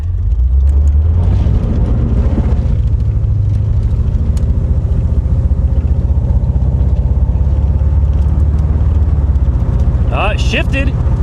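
An old Chevrolet Corvette recovered from a Florida swamp drives off loud and close, its engine droning and rising through its gears, with excited voices talking over it.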